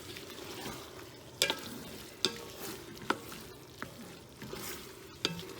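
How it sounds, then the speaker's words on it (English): Chili ingredients are stirred in a hot, sizzling pan, with a steady fry hiss and sharp scrapes and clanks of a utensil against the pan at irregular intervals, close by and with no talking. "All right, let's mix them in. Mixing"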